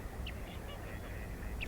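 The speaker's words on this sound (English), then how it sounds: "Lots of ducks, too." Ducks quack at a lake where pelicans also gather, a few short calls heard faintly over a steady outdoor wash of wind and water noise.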